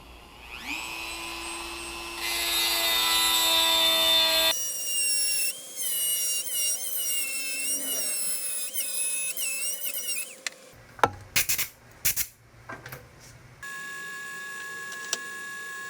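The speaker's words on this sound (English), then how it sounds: "So we'll just use the Dremel tool, grind that one out, and pull it out the same way." A Dremel rotary tool whines at shifting pitches while grinding out a shaft bearing from a BMW E30 throttle body, its tone rising and falling in bursts before giving way to sharp clicks and clatter.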